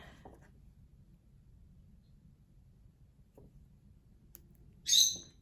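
A pet bird gives one short, shrill squawk near the end, loud and close, after a long stretch of near silence with faint low rumble and a couple of soft knocks.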